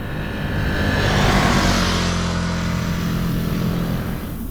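A Ducati Monster's V-twin engine pulls hard under acceleration, a loud, steady, close-up roar that stays strong and even for several seconds.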